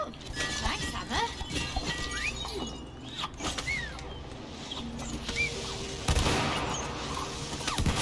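Fireworks burst in the video game It Takes Two, a busy run of crackling pops, whistles and sharp bangs with a louder blast near the end, while players talk over the noise.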